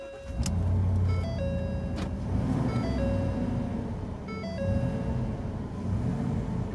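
A truck engine fitted with a Bully Dog GT gas tuner idles steadily and loudly close by, a constant low rumble with faint high electronic beeps now and then and no talking.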